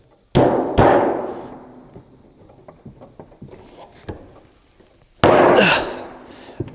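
A nailed-down metal roofing panel is pried up with a pry bar, giving sharp, loud metallic clangs and rattling crashes in two main bursts, with softer scraping and tapping in between.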